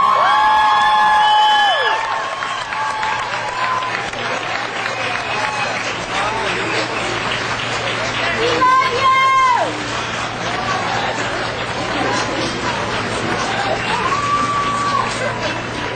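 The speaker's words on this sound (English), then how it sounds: "will you please let your applause signify your approval of a star on the Hollywood Walk of Fame for Johnny Depp" Crowd applause and cheering at Johnny Depp's Hollywood Walk of Fame star ceremony, a sustained outdoor wash of clapping with whoops and shouts, mixed with amplified speech and announcements.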